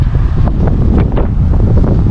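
Strong wind buffets the microphone in a large car park outside a Thai Oriental grocery shop in Den Haag, a steady loud roar with gusty low rumble and no speech throughout.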